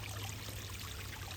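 A garden hose on a spray setting blasting algae off pond rocks, a steady, dense hiss of water rushing and splashing without a break, close by.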